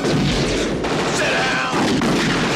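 Movie gunfire from Die Hard 2, heavy booming shots and blasts in a dense, loud action scene lasting a few seconds, with faint voices underneath.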